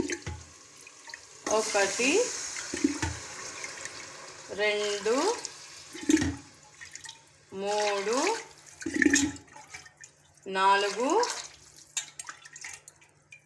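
Water is poured glass by glass into rice for vegetable pulao, about four splashy pours at a moderate distance, alternating with a voice counting aloud.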